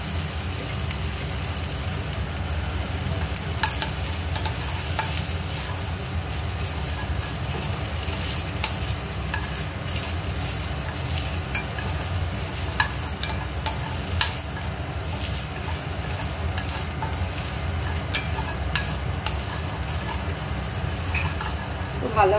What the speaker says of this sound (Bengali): ভালো করে নাড়বো। যেটুকু জল আছে অ্যাবজর্ব হয়ে যাওয়া অবধি।